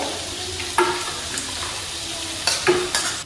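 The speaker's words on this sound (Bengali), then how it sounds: "খুব ভালো করে এবার কষাচ্ছি আমি" Amaranth stalks and potatoes sauté in a pan with a soft, continuous sizzle, broken by a few sharp scrapes and knocks as a spatula stirs, close by with no talking.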